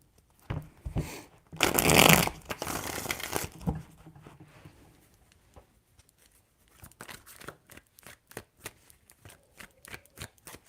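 Tarot cards are riffled in a loud, dense burst near the start, followed by quieter irregular flicks and taps as the deck is handled and shuffled again.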